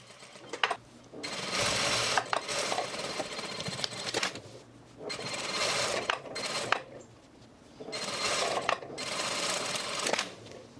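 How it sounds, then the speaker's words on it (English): Sewing machine stitching along the folded edge of a pants seam, running in three long sustained bursts separated by short pauses, close and steady. "just start sewing along the edge of that folded edge"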